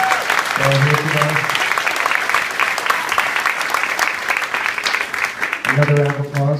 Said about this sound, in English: Big round of applause to our parents and our families that are here today